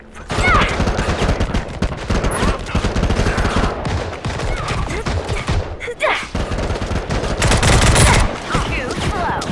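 In the Modern Combat Versus shooter game, dense automatic gunfire rattles almost without a break in loud, close bursts, with a few brief game voices mixed in.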